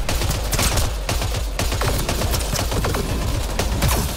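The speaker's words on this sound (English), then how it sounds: "I'm just standing here shooting" Dense, continuous gunfire from a firefight with smugglers in Mass Effect: Andromeda, rapid overlapping shots and impacts packed tightly together, loud throughout with no talking.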